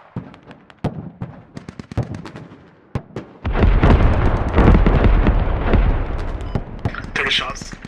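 Artillery shells from a fire mission in the video game Squad land as sharp booms, first a few distant reports, then a heavy sustained rumble of impacts and explosions.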